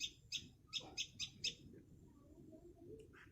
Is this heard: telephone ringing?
no